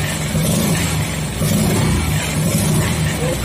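A four-stroke road race motorcycle fitted with a loud open exhaust runs close by. It makes a steady, rough, throaty drone with slight surges and no speech.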